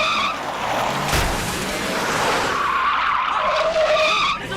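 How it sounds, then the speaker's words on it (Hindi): A car in a Hindi-dubbed action movie chase scene reverses hard, its tires screeching loudly in a long skid with engine roar over about four seconds and no speech. "गाड़ी पीछे ले।"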